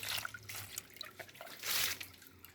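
Water drips and trickles while cardamom plant flowers are rinsed, a soft close patter with faint splashes over a quiet background and no talk.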